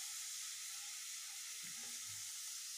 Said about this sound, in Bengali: আর পেঁয়াজটা এখন ভালো মতন ভেজে নিচ্ছি